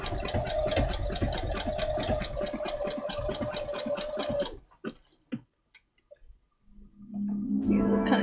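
A sewing machine runs flat out with the pedal pressed all the way down, a fast steady mechanical whir with a ticking rhythm for about four seconds. It then stops abruptly, leaving a few quiet clicks before a low hum rises.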